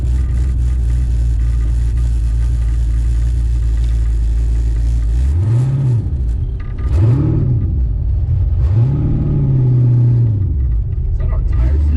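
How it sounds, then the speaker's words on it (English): A supercharged 1969 Camaro making about 600 wheel horsepower does a burnout, its engine a loud, steady low rumble that swells into three rising and falling revs in the second half, with faint voices in the background. "You did a pretty good burnout going this way."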